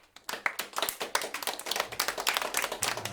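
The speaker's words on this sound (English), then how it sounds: "We'll have editing put some of those claps in." A small group claps in quick, uneven bursts for about three seconds, close and dry, the kind of clapping dropped into a podcast intro.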